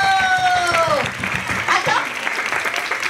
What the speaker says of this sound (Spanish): ¿Nos damos un aplauso a nosotros mismos?